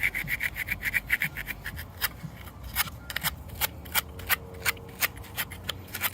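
Scotch-Brite pad scrubbing the contacts inside a C4 Corvette steering column, a close, rapid, rhythmic scratchy rubbing in quick back-and-forth strokes, steady throughout with no talking.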